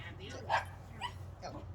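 Puppies in a group dog training class give a few short yips and whimpers, close and moderately loud, spaced irregularly over a steady low background hum.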